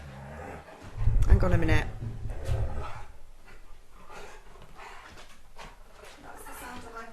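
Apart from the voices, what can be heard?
husky dog vocalizing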